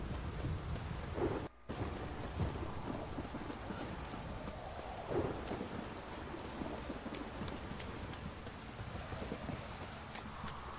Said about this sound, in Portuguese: De noite, trovejando. Chuva forte.